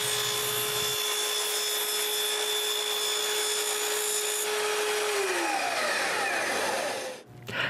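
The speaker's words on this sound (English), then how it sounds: "Next, I cut one side to 45 degrees." A power saw whines steadily as it cuts a wooden shelf piece at a 45-degree angle, loud and close, its pitch dropping as the cut finishes.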